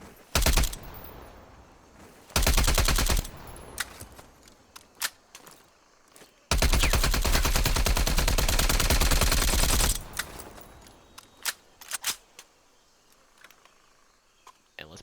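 A DM Ultra rifle fitted with attachments fires in a video game, in long loud bursts of rapid automatic shots separated by quiet pauses and scattered clicks, with a voice talking between bursts.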